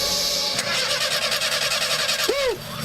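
A motor engine sputters and runs roughly in a radio advertisement, a steady rattling mechanical drone with a brief whooping effect near the end and voices talking over it.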